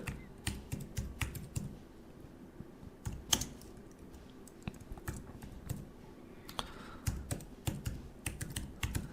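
Typing on a computer keyboard, with rapid irregular clicks and occasional louder key strikes, close and fairly quiet, alone without talking.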